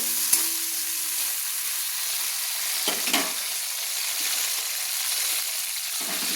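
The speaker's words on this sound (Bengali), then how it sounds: "তো আমি দিয়ে দিলাম ক্যাপসিকাম যে কেটে রেখেছিলাম সেগুলো আমি দিয়ে দিলাম, দিয়ে একটু লাল লাল করে ভালো করে ভেজে নিচ্ছি।" Chopped capsicum frying with tomatoes in a pan, a constant close sizzle with a few soft stirring knocks and scrapes scattered through it.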